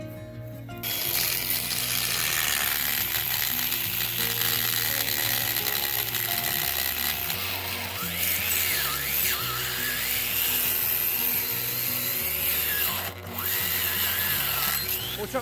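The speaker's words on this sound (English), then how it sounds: "Now we are cutting off the end of that bolt with this metal cutting 4-inch cutoff tool." A 4-inch metal cutoff tool grinds through the end of a steel bolt used to repair a split tree, a loud, steady high-pitched whine that runs nearly unbroken, with a brief dip near the end.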